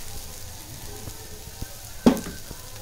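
Onions softening in a hot pan give a steady, close sizzle, with a few light stirring taps and one sharper clatter of a utensil near the end.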